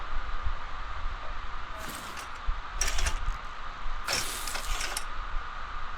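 Blocks being welded with a welder tool while building a small gyro in a survival building game, heard as mechanical ratcheting bursts over a steady low hum, three distinct bursts spaced about a second apart.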